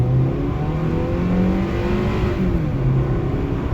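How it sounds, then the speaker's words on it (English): A Ford Fusion's four-cylinder engine accelerates hard under full load, a loud, close, continuous drone whose pitch climbs steadily through the gear, with no talking. "we'll let that little Ford and Mazda 4-cylinder sing"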